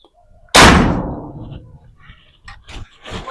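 A single sharp test shot cracks loudly up close and then decays into a trailing rumble, followed by faint talk and soft handling noises.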